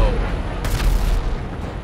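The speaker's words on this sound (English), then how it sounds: "Nice explosion." Explosion in GTA Online, a deep rumbling boom with a sharp broadband blast partway through, loud and close, trailing into low rumble, with talk around it.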